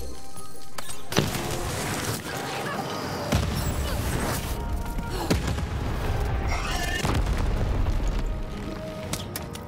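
Bombs blowing up in the video game Lost in Random, a string of deep booming blasts with crashing thuds spaced across a busy stretch of play.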